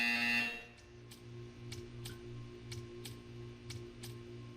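A short, loud electronic buzzer from the video game Portal 2 sounds at the start, followed by faint, evenly spaced ticks over a low hum.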